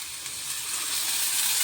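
Masala for kadai egg curry sizzles in hot oil in a pan, a steady, fairly loud broadband frying hiss that builds slightly and runs continuously with no talking.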